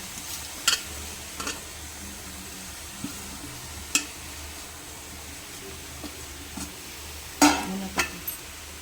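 Chicken tipped onto softened vegetables frying in a pan for momo filling: a continuous low sizzle and stirring broken by scattered sharp clinks of a utensil, the loudest cluster near the end.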